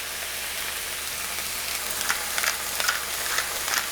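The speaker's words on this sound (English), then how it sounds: "And I want to cook this down until the veggies are nice and softened." Onions and minced garlic sautéing over medium heat in a pan with other vegetables, a steady close sizzle that grows a little busier with crackly pops toward the end, no voices.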